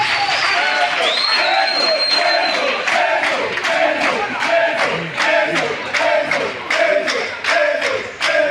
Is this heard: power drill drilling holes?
no